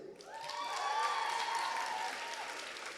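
Moderate applause from a graduation audience as a name is read out at the Columbia Journalism School ceremony, a sustained wash of clapping with a tonal whistle or cheer rising above it.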